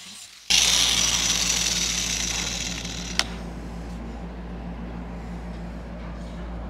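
Blade of a Cub Cadet 1450 riding mower ground with a power grinder, a loud steady hiss and whine starting abruptly after a brief pause, with one sharp click midway, then holding on.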